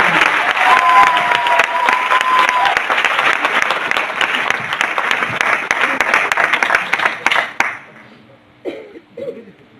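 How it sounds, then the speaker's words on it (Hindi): An audience claps loudly and steadily for several seconds, and the sound tapers off into a few scattered claps as a voice begins speaking. "एक बार जोरदार तालियां सभी साथियों के लिए।"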